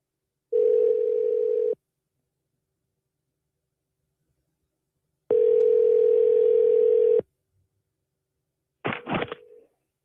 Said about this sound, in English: Coins, I'm calling you right now